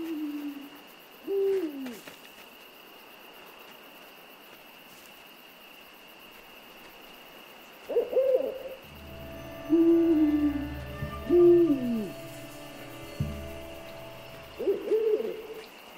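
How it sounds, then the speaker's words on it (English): An owl hoots in the video game Endling, with soft hoots spaced out over an ambient forest background, some nearer and some farther off, alone without talk. "There's another owl in the distance."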